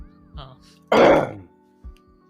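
A single loud, close cough bursts out between quieter moments, with faint voice-like sounds before and after.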